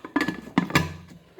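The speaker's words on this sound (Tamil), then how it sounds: "வச்சு இனிமேல் நம்ம குக்கர் பாத்திரத்தை மூடிடணும்" A pressure cooker lid being set down and closed, a few quick metallic clanks and knocks in succession, close and fairly loud, then a brief ringing tail.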